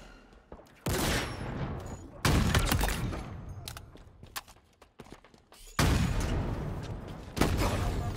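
Gunfire in Halo Infinite multiplayer on Xbox Series S: dense bursts of automatic weapon fire come in several loud stretches, separated by quieter gaps with scattered shots and footsteps.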